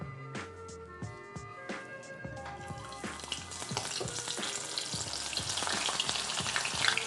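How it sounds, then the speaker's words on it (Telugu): Food deep-fries in a small amount of oil in a home kitchen, starting with scattered crackles and stirring knocks, then swelling into a dense, steady sizzle that grows louder toward the end. "అంటే ఆయిల్ తక్కువలో డీప్ ఫ్రై చేసుకోవచ్చు."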